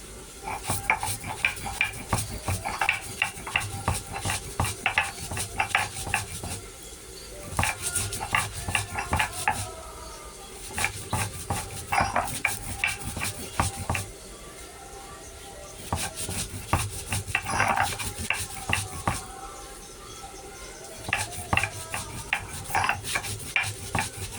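Spice paste being ground by hand for a homemade kul (jujube) pickle, with repeated rubbing and scraping strokes on a grinding stone in bursts, fairly close, amid light kitchen clatter and occasional background noise.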